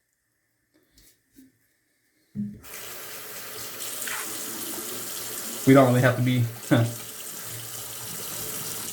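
Tap water runs onto an 800-grit wet-or-dry abrasive to wet it for flattening sharpening hones. After a few faint clicks, a steady close stream starts with brief louder splashes, while someone talks over it.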